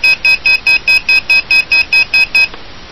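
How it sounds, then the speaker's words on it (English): An Arris X220 FPV drone's electronic beeper sounds a steady series of about eleven loud, evenly spaced high-pitched beeps, then falls silent. "You got a beeper."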